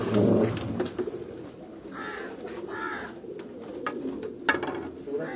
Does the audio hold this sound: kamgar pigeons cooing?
yes